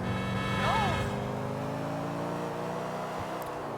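A car engine in GTA 4 hums and revs steadily as the vehicle drives, with a whine rising and falling early on and someone talking over it.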